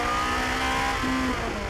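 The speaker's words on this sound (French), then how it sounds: "Regardez, ça rétrograde tout seul là où il faut quand il faut." Ferrari supercar engine revving under load as its gearbox downshifts automatically, a loud continuous drone with shifting pitch and a brief jump in tone partway through, with no talking.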